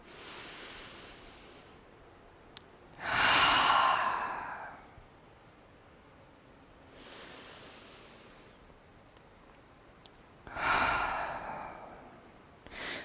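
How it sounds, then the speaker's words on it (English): Slow breathing during a guided breathwork exercise: two long, forceful exhales through the mouth and softer inhales between them, close up and alone. "Exhale through mouth."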